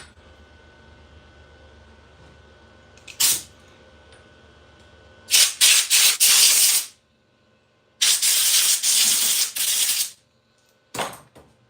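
Compressed air blows dust off a fabricated metal part in a workshop, several loud close hissing bursts, one short and the others lasting one to two seconds, separated by quiet pauses.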